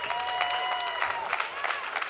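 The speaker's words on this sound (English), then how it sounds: "Give him a round of applause." Audience applause at a PAX West 2022 arena event for the second-place finisher, a dense steady patter of many hands filling the room, with cheering voices mixed in throughout.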